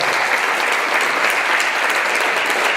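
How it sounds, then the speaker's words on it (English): Sustained applause from a conference audience at a digital travel event, dense and steady throughout, fairly loud and close, with no voices on top. "Let's give a round of applause."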